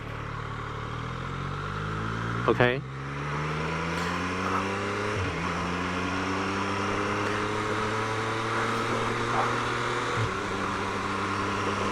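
A Triumph Street Triple 765RS, a 2023 motorcycle, idles close by with a steady engine note and two brief revs that rise and settle, and a short spoken word comes near the start.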